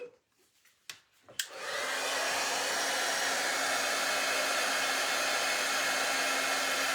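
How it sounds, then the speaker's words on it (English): A handheld craft heat tool blows hot air steadily over embossing powder on a stamped surface, a loud continuous whooshing drone that starts after a few brief clicks and holds unbroken to the end. "And then you're just going to heat it up with your heat tool."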